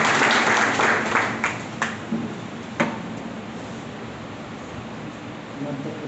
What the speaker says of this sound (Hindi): प्लीज उनका जोरदार तालियों से स्वागत करें।